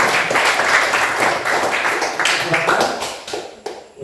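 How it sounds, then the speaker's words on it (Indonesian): A classroom group gives lively applause as the first group of seven returns to their seats, dense clapping that fades toward the end. "marilah kita memberikan tepuk tangan yang meriah kepada"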